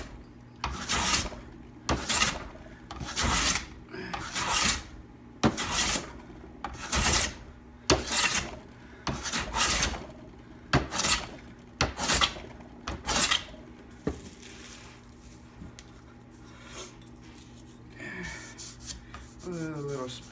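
A hand plane with a 55-degree frog takes thin shavings off wood in a regular series of about a dozen close rasping strokes, then falls quieter with light handling sounds.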